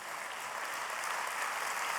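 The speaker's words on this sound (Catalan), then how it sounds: "Doncs tenim un aplaudiment per tot el jurat" Audience applause for the jury at a wine awards gala, a dense, steady clapping from a large indoor crowd that carries evenly throughout with no talking.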